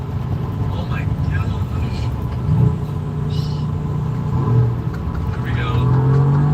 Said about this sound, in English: Mercedes, please never stop making V8s that sound they just sound so good